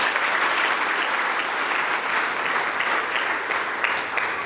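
Church congregation applauding during a thanksgiving service, a steady, dense wash of many hands clapping that holds loud and continuous throughout.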